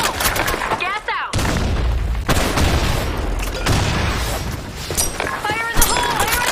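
A grenade bursts during a Counter-Strike match amid dense, loud gunfire and booming blasts, with rapid shots layered over continuous roaring noise and brief radio-style voices.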